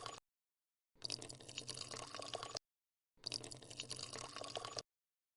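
Beer being poured into bottles in a brewing simulator game, two separate bursts of splashing liquid each lasting about a second and a half, with clean silence around them and no talk.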